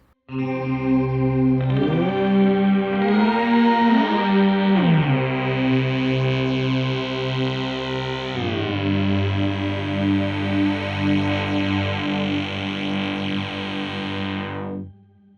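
A guitar pedal's smooth, swelling fully wet orchestral tone rises into a lush layered chord, then a deep low octave synth drone joins and sustains before cutting off.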